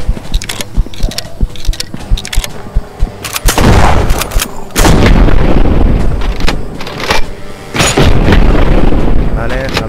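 Gunshots ring out in the zombie video game Purge Dead Outbreak, scattered sharp shots followed by heavier bursts of rapid fire, loud and close.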